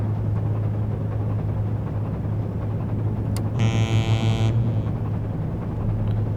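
A car horn honks in the ship sim game Seafarer, one sustained blaring toot of about a second over a steady low engine drone, with no talking.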